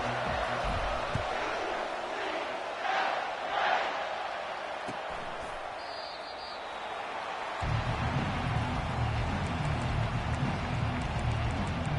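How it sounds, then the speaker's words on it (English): A football stadium crowd roars during a UCF versus TCU game, a broad distant wash of cheering that swells louder near the end, with a commentator talking over it. "It's early, but this crowd is fired up. Listen to this noise here."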